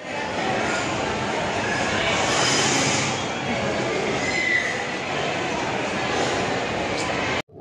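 Train at Renigunta railway junction near Tirupati, a steady loud rumble of rolling stock with a faint high squeal partway through, continuous for several seconds before cutting off abruptly.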